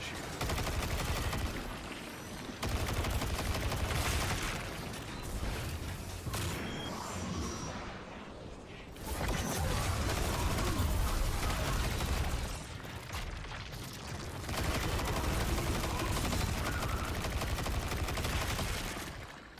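Sustained gunfire from the shooter video game Destiny 2 crackles in long rapid bursts, loud and dense, with a brief lull around the ninth second before the shooting resumes.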